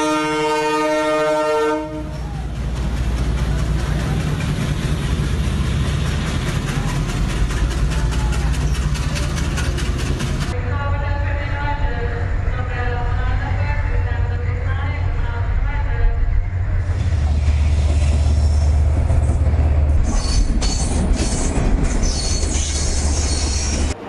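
A train runs along railway tracks in Sri Lanka, with a loud horn blast followed by continuous rumbling wheels and clattering, close and dominant throughout.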